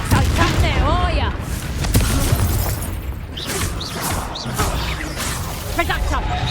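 A Confringo blasting spell in Hogwarts Legacy sounds as a dense, loud burst of booming, whooshing and crackling effects, overlapping with shouted voices and pitched character sounds throughout.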